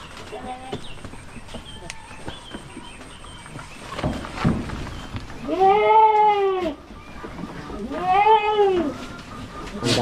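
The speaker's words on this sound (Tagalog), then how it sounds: "aming kambing oh." Two loud bleats from a nearby goat, each wavering and drawn out, following some scattered rustling and faint background sounds.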